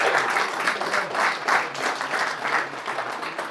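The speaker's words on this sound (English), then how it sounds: "Let's keep it going for our champion, Brendan O'Donoghue." An audience applauds a snooker champion at the Nenagh Open final in a snooker club, with steady, dense clapping that swells and eases slightly and carries on without a break.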